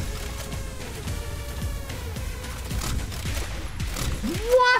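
Enemy gunfire in Turbo Overkill, with homing bullets, comes as rapid repeated shots under a game soundtrack, growing denser toward the end, while someone talks over it.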